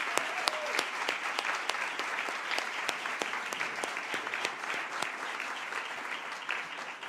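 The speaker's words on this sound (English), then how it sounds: "one big round of applause for all of our sponsors for today's forum" A forum audience gives a round of applause for the sponsors of a Central Ohio women's wealth event. The sound is a sustained crowd of clapping with crisp individual claps standing out throughout, moderately quiet and continuous.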